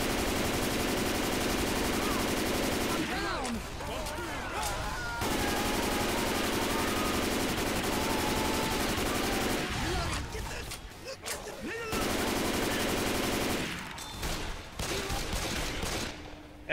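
Left 4 Dead 2 gunfire rattles in long, loud automatic bursts, broken by short pauses where the shooting stops before resuming, with some faint voices mixed in.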